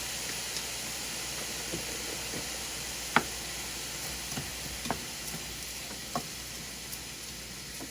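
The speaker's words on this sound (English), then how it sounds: "I want to make a lot of fried rice. Okay, we'll mix them up." Vegetarian fried rice with celery, pepper and cauliflower sizzles steadily in a pan, a continuous frying hiss broken by scattered clicks and taps of a utensil stirring, with no talking.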